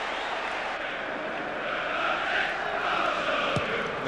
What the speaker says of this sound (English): The crowd rising to it.